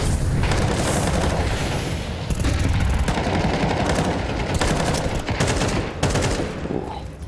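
Rapid gunfire bursts and booming shots from a Counter-Strike 2 match at a major tournament, loud and continuous, with dense overlapping fire throughout.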